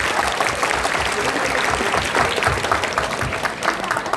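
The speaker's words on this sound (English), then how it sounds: "please clap loudly." An audience at a session claps loudly, a dense sustained burst of applause from a crowd, steady throughout with a faint voice mixed beneath.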